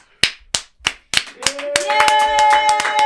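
Clapping at a talk on impostor syndrome: a few sharp, separate hand claps at first, then quickly building into quicker, fuller applause with tonal voices cheering over it near the end.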